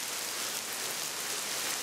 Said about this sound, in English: So, as you can see, once again, it's raining.